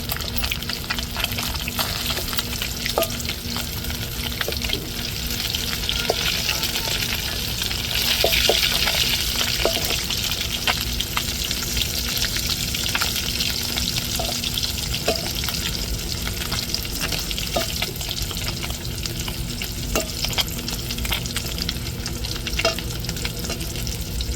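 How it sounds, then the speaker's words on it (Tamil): Fish sizzles steadily in hot oil in a pan, a loud, continuous crackling hiss with occasional clicks and scrapes as the pieces are turned over to cook the other side. "இப்போ மீனை பிரட்டி விட்டுக்கிறோம் ஒரு கரை வெந்துட்டு மறு கரை நம்ம பிரட்டி விட்டுக்கிறோம் மீனை"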